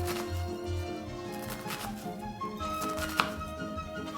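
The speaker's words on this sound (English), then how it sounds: "I'm gonna finish cutting this up" A knife chops an onion on a board in a home kitchen, with soft, uneven cutting taps over a steady background of tonal music.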